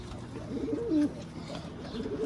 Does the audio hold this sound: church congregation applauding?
no